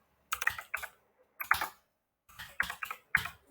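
Typing on a computer keyboard, close and fairly quiet, in three short bursts of quick key clicks separated by brief pauses.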